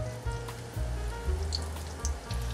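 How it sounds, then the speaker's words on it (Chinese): Glutinous rice sausage pan-frying in shallow, gently heated oil gives a soft, low sizzle with scattered small pops and crackles. "油有微微的热，可以先来煎糯米肠"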